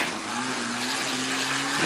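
A turbo diesel pickup engine roars at high revs, a loud, continuous mechanical drone with a steady rising tone, close by and without talk.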